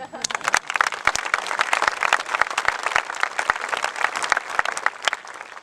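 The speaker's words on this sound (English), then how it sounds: "All of us, we all made it, and honestly, that deserves applause." Applause at a high school graduation ceremony, a crowd clapping steadily and densely throughout, with sharp individual claps standing out near the microphone and no break in the sound.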